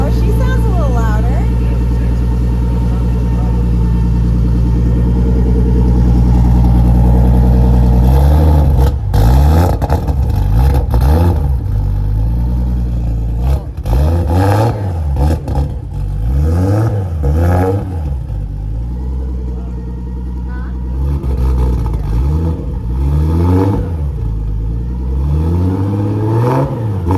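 A modified car with a stock RB25DET engine idles with a deep drone, then revs repeatedly in sharp rising and falling bursts, loud and close, while people talk nearby.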